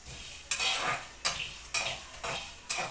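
Masala frying for an Andhra-style gongura mutton curry in a village kitchen, with a steady sizzle broken by five evenly spaced scraping stir strokes, close and fairly loud, no voices.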